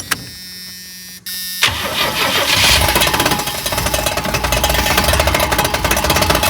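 An old van engine that had sat for weeks cranks briefly, catches and roars into a loud, steady run, with a rough rhythmic knocking from the fan hitting throughout, close and alone.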